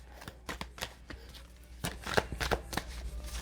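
Tarot cards being shuffled at close range, with a series of quick papery riffles and slaps in uneven bursts, growing busier toward the end, and no speech.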